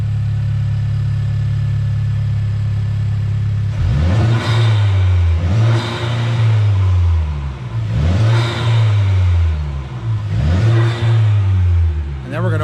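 Engine of a 2018 Honda Civic Type R fitted with an aFe Takeda cold air intake, heard with the hood closed: a steady idle, then four rising revs that fall back each time, loud and close.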